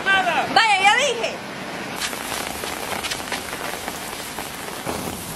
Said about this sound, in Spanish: Hijo, deja de andar jugando bajo la lluvia, se va a enfermar.